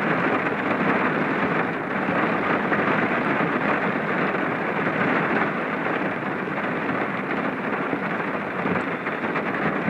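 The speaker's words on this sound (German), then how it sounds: "aber wann der Regen endlich mal nachlässt, das ist die andere Frage" Heavy rain pours in a steady, dense hiss during a thunderstorm, with low rumbling thunder running underneath at constant loudness for about ten seconds and no voices.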